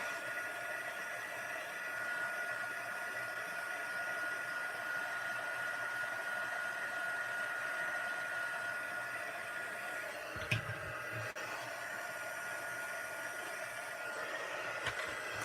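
A handheld heat tool blows a steady, even whir as it melts embossing powder for a stamped card. It runs close and continuous, with a brief clatter near the end.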